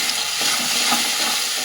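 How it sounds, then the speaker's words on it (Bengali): Onion and garlic paste fries in a pan, giving a short burst of even, moderately loud sizzling with no talk. "পেঁয়াজ, রসুন সমস্ত কিছু ভাজা ভাজা হয়ে গেছে।"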